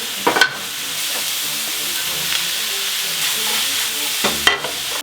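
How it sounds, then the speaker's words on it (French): Mushrooms sweat and sizzle in a pan, a steady close frying hiss running throughout with a few sharp clinks of utensil against the pan near the start and end. "Les champignons suent, ils ont soif"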